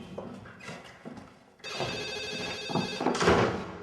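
A telephone rings loudly in a domestic drama scene, its bright trilling tone starting about a third of the way in and sounding continuously to the end after a few quieter knocks and movements.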